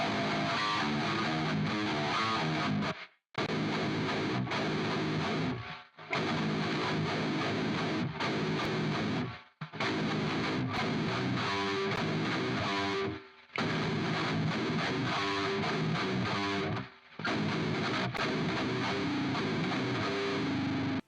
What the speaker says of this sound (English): this is what they sounded like